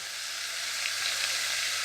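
Butter melting in a pan as a steady, close sizzle: a continuous fine crackling hiss with no voices over it.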